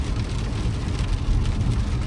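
Heavy rain pours down steadily in a Punjab farming area during monsoon weather, a dense, even wash of noise that is loud and close and continues without a break. No one speaks.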